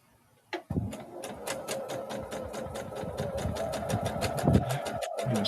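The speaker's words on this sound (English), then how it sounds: "we'll get a little bit more sewing done, hopefully" A sewing machine runs steadily while stitching a quilt, a fast even train of needle clicks with a motor hum underneath, close and continuous after a short thump at the start.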